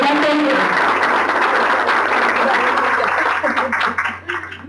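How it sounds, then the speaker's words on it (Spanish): An audience applauds to welcome someone speaker onto the stage at an evening event: dense, loud clapping that is sustained and then thins out near the end, with voices mixed in. "por favor ayúdenme a recibirla con un fuerte aplauso"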